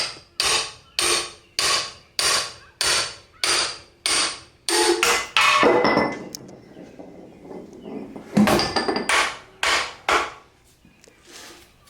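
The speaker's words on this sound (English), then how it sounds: "Give me a hammer, we'll get that balancer off." Repeated hammer blows knock a harmonic balancer off a 307 cubic-inch engine, a steady run of sharp metallic strikes close by, broken midway by a burst of clattering and scraping before the hammering resumes.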